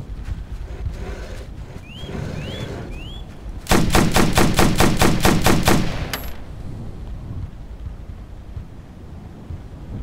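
Gunfire in the video game Operation Flashpoint 2: after a few scattered shots and rising electronic chirps, a loud rapid burst of automatic fire rattles for about two seconds, then the scene settles into quiet ambient noise.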